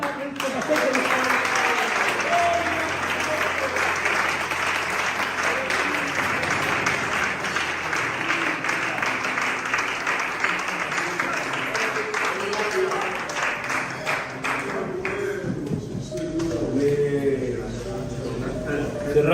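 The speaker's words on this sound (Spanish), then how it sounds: "Un aplauso del Padre" A church congregation applauds during a Spanish-language service, steady sustained clapping from a crowd in a hall lasting most of the stretch, with a voice speaking over it before the applause fades out.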